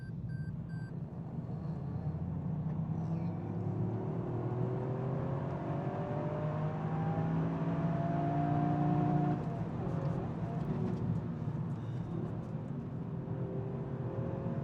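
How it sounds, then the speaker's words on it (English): A Toyota GR Yaris engine runs steadily and loudly with a droning, rising-and-falling engine note, the rev tone climbing and holding near the top for several seconds before easing off, with no talking over it. "RPM limiter sounds also quite good"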